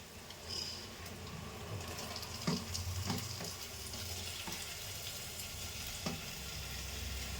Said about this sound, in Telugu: ఇప్పుడు టమాటాలు వేయాలి